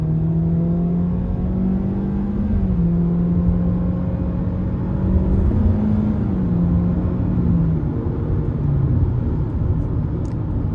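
A 2025 Kia K4 LX-S accelerates on the highway, its engine drone rising and falling in pitch through the gears with a steady road and wind rumble, loud and close from inside the cabin.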